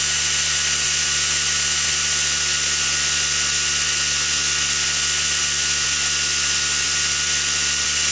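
Rewound Bosch 750W electric motor running steadily at 4,300 RPM, a loud, constant high-pitched whine with a dense hum beneath, unchanging from start to end with no voices.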